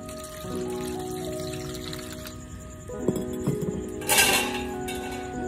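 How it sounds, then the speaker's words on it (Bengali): Water poured from a tap onto a plate before grating peeled potatoes for a semolina and potato snack, a soft steady trickle with a hum in the background, a few clinks of metal on the plate and a brief louder splash. "এবারে থালায় আমি একটু জল দিয়ে নেব।"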